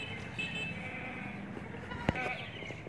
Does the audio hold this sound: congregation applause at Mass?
no